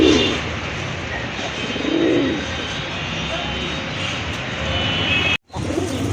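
Pigeons of several colorful breeds, including Rajgolla, coo in soft low bursts near the start and around the middle, set against a loud continuous engine-like drone that masks them.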